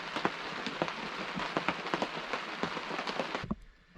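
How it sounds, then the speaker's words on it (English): Steady rain patters on a canvas tent pitched on a frozen lake, a dense hiss of close drops with sharper individual taps throughout, stopping abruptly near the end and leaving a quiet lull. "it's kind of rained all morning"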